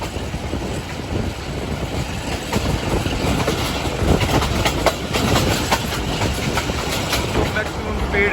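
An economy-class passenger train running at night from Gujranwala to Lahore rumbles steadily along the rails, with a dense continuous roar and faint clickety-clack heard from inside a coach, a voice talking over the noise.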